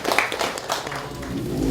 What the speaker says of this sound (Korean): 이 집에서 박수 한번